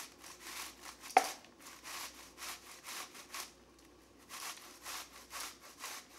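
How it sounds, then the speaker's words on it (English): Zucchini being grated by hand into a measuring cup on a scale for keto zucchini bread: a steady rhythm of rasping strokes with one sharp knock near the start and a brief pause midway. "So I just grate it right into a measuring cup on a scale."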